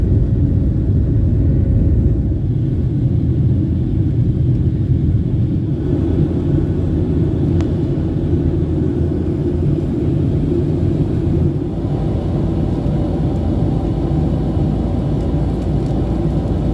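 Steady, loud engine roar and rumble of an airliner taking off from Palm Springs airport, heard from inside the cabin as a continuous low drone with no talk.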